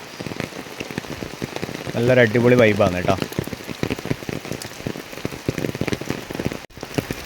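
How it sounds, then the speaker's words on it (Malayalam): Heavy rain pours down on a mist-covered hilltop at Muthappan Mala temple, a dense steady hiss of drops on surfaces throughout, with someone speaking briefly over it. "നല്ല മഴയാണ്."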